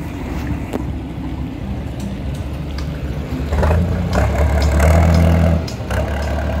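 A motorboat engine on a sand pumping boat in the Mekong Delta rumbles steadily nearby, swelling louder for a couple of seconds before settling back, with no talk.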